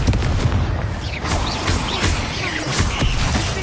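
A Confringo fire spell blasting in the Hogwarts Legacy video game, a dense continuous barrage of loud, booming explosive bursts and crackling impacts filling the whole stretch with no pauses.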